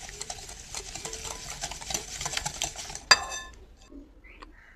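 Three eggs and a cup of sugar whisked by hand in a bowl, a fast rapid clatter of the whisk against the sides, then a sharp clink and the beating stops, quiet, no voices.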